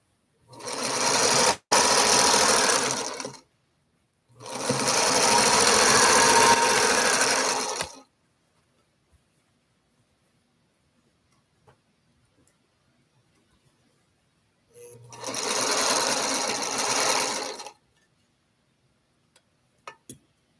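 A quilting machine runs in three separate bursts of steady mechanical whirring, each a few seconds long, with quiet pauses between and no talking.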